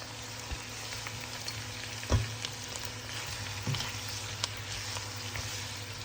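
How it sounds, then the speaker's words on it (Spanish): Pork tenderloin and onion sizzle softly in a frying pan while a utensil stirs them, a few light knocks against the pan standing out over the low, steady frying. "lo que vamos a hacer va a ser mezclarlo todo con la cebolla bastante bien"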